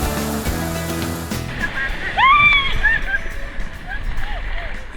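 Sea waves slosh and wash along a tropical beach shoreline during a hunt for sea snails, a steady close watery churn with brief splashes, joined partway by a few faint high chirping tones.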